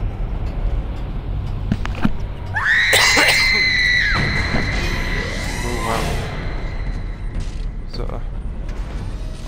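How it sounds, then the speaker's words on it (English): An ominous scream in the video game Dead Space, a shrill wavering cry rising and sustained for a few seconds over a low rumbling game ambience, with a voice heard briefly. "ominous scream."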